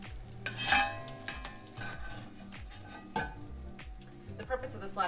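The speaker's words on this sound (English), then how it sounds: "use like a slotted spoon of some sort to remove it from the pan and add it into the Brussels sprout mixture" A slotted spoon scrapes and clinks in a frying pan, lifting browned pancetta out of hot oil, with soft sizzling and stirring scrapes close by.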